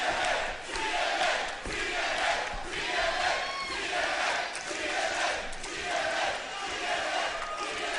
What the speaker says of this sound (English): Crowd responds.